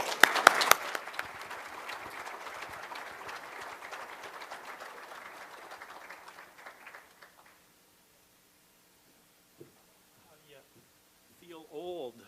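Audience at the Alberta Municipalities Spring Leaders' Caucus applauds to welcome a speaker to the stage: steady, full clapping that thins and fades over several seconds into quiet, before a voice begins speaking.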